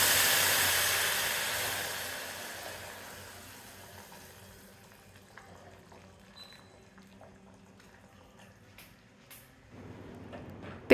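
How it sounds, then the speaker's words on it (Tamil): Boiling water poured onto roasted wheat rava in a pressure cooker while making upma, a loud sizzling hiss at first that gradually settles into faint bubbling and simmering. "நல்லா கொதிக்கிற தண்ணி 3 கப் அளவுக்கு சேர்க்கணும்."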